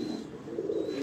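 A pigeon on a Lahore rooftop gives a soft, low cooing, close and continuous through the short moment, with faint background noise around it.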